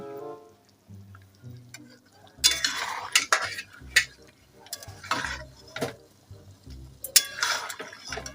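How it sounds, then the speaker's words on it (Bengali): A slotted spoon scrapes and clinks as meat is stirred slowly in a pot for biryani, with bursts of metallic scraping and clatter at close range over a low background. "এবার তুই ঝাঁঝরি দিয়ে আস্তে আস্তে হাতটা নাড়বি"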